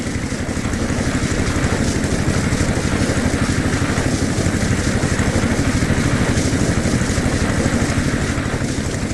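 A red tractor engine works hard in a lush green cotton field, giving a steady, close, rumbling drone that holds without pause from start to finish.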